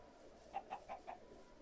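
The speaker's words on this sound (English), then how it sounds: "Oh, chickens." Chickens in a video game give four short, evenly spaced clucks over a quiet ambient background, moderately loud and close with no talking.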